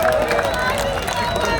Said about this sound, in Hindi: ये तालियां किसी को ऐसे नहीं मिलती